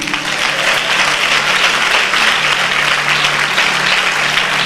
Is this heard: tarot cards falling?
no